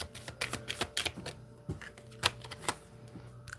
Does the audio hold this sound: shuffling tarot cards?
yes